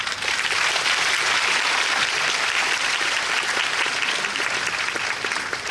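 Sustained, dense applause from a large audience at a French film festival opening ceremony in Japan, a steady even roar of clapping with no pauses.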